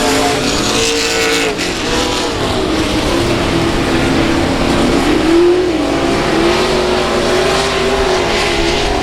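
Race cars roar around the oval at South Texas Speedway, a steady loud engine drone with rising and falling pitch as cars pass, continuous throughout with no talk.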